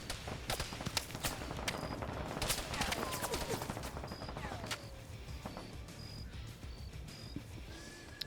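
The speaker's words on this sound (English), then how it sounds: "That's the BMP shooting at him." A BMP armoured vehicle firing in the military video game Arma: scattered distant gunshots and cracking bursts over a rumbling battlefield, fairly faint, with intermittent electronic beeps and occasional whistling sweeps in the background.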